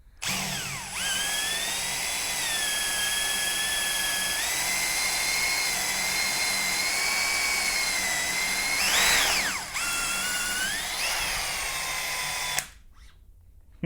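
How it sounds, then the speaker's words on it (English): A drill with a 5/16 bit bores through a 5/8 wooden dowel rod in a small portable drill guide, giving a loud, steady whine that shifts pitch several times as the load changes, then cuts off abruptly near the end. "This is a 5/8 dowel rod with a 5/16 drill bit."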